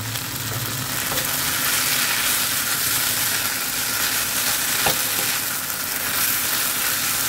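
Noodles fry in a hot pan with a loud, continuous hiss and crackle, close up and steady, with faint stirring scrapes.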